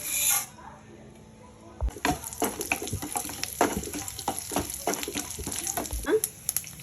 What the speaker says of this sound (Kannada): ಇಲ್ಲಿ ಸಾಸಿವೆ ಜೀರಿಗೆ ಮೆಣಸು ಮತ್ತು ಉದ್ದಿನಬೇಳೆ ತಗೊಂಡಿದ್ದೀನಿ ಇದಿಷ್ಟು ಇದಕ್ಕೆ ಹಾಕ್ತಾ ಇದ್ದೀನಿ